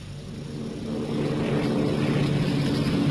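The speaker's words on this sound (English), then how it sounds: "The plane's airborne." A propeller airplane drones steadily in flight as a radio drama sound effect, a moderate, continuous engine hum that swells slightly after the first second and holds without voices.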